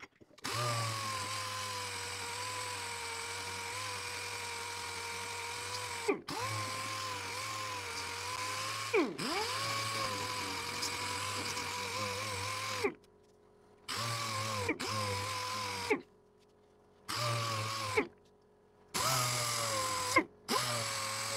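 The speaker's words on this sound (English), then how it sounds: "Let's use an air sander." Air sander smoothing a surface, a steady loud buzzing whine that runs continuously, stopping briefly a few times and then cutting in and out in short bursts near the end.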